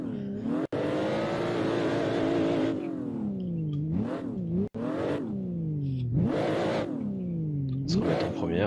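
A BMW M3 E36 drifting on a track in Japan, its engine screaming in repeated rising and falling revs, loud and close, with sharp cuts between throttle bursts.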